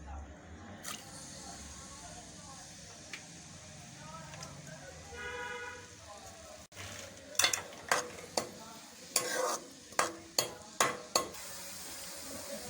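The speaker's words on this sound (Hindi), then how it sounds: "प्याज हमारा फ्राई हो गया है।" Onions fry in oil in a kadhai with a soft, steady sizzle. Later a spoon scrapes and clanks against the pan in a string of sharp, loud strokes, and a voice speaks briefly.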